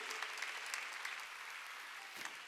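A church congregation claps together during a Wednesday worship service, sustained steady applause filling the room with a few louder bursts, no voices standing out.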